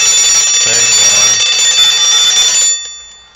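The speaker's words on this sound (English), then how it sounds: "you can set it for steady or repeat, which is like your prototype of the snooze alarm" A vintage 1920s Westclox wind-up alarm clock rings loud and close, a bright continuous metallic bell clatter for under three seconds before cutting off abruptly into silence.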